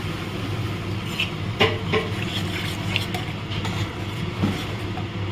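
Curry gravy sizzles steadily in a pan after water goes in, with light scraping stirs and a few sharper clicks of the spoon over the constant frying hiss.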